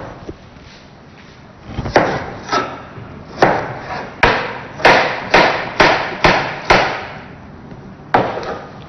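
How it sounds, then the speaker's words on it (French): Apples being cut with a knife on a board, a series of about ten sharp, fairly loud chopping knocks in an uneven rhythm, close by and with no talk. "je vais devoir faire la découpe de mes pommes"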